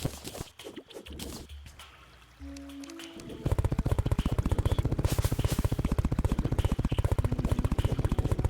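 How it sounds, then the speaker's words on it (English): Hornets firing rapid volleys in Terraria's Calamity mode, a fast, relentless stream of clicking shots that erupts suddenly after a quieter stretch and keeps up a dense, even rhythm to the end. "Man, the hornets shoot so fast."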